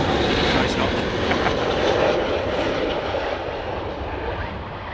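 A fighter jet of the 48th Fighter Wing roars loudly and continuously overhead, a broad, powerful engine rush that swells and then eases slightly, with faint voices in the background.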